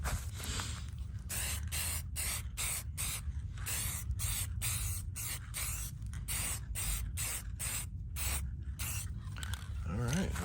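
Spray paint goes onto a motorcycle part as a second coat, heard as repeated hissing bursts of varying length, close and steady, broken by short pauses.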